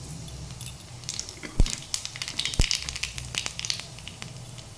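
Black cumin seeds crackling and sizzling in hot oil in a wok, a soft steady hiss broken by a couple of sharp pops and scattered faint crackles, with no voices.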